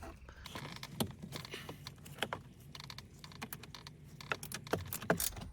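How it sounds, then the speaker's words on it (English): Open-end wrench breaking a bolt loose on a Mercedes C63 AMG, a quiet run of sharp metallic clicks and ticks at irregular intervals, close and faint, with a few louder clacks toward the end. "So there's my wrench, open wrench. We're just going to break it loose."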